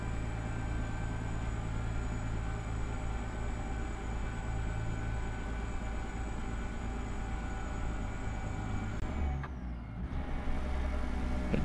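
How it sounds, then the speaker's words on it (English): A big truck's engine drones steadily at high revs, then drops off sharply as it downshifts for an uphill incline on a road in Canada, the low rumble picking back up right after. "A downshift for that uphill incline"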